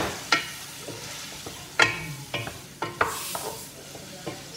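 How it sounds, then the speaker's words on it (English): A spoon stirring tom yum soup with lemongrass and ginger in a pot gives a run of sharp scraping clinks at irregular intervals over a soft background sizzle, close and without speech. "Mix it well."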